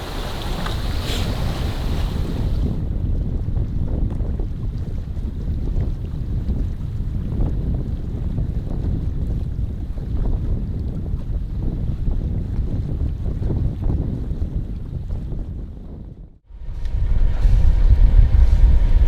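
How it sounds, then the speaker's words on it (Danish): A sailboat cuts through the water near Kiel, with a steady rush of waves and wind buffeting the microphone, continuous and loud, briefly dropping out before a louder gust of wind noise returns. "Vi sejler nu ind i den smalle del her omkring Kiel"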